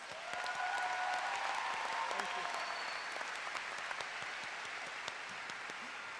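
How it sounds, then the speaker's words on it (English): Sustained applause from a commencement audience at a CSUSB graduation ceremony, a dense, even wash of many hands clapping in a large hall, fairly distant and steady throughout. "Please give them all a round of applause."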